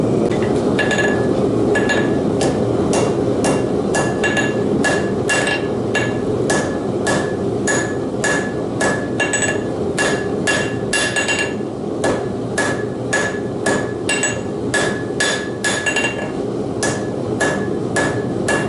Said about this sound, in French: on va forger la pointe de la lame